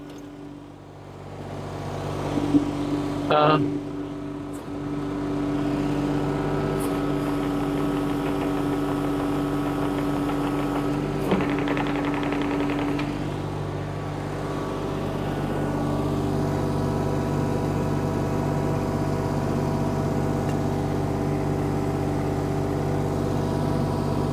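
Kubota U27-4 mini excavator running with a steady mid-pitched diesel idle, its track being spun; an engine hum with vibration holds throughout, with a couple of brief clanks early on and a slight rise near the middle.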